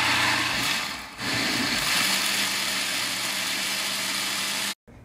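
Electric blender whirring steadily as it blends ginger and coconut, loud and close, holding a continuous motor tone with a brief dip near the start before switching off abruptly at the end.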